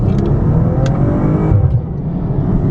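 A 2015 Maserati Ghibli S Q4 accelerating hard in regular mode from inside, a loud steady engine drone rising through the revs with a brief gear change dip about halfway through.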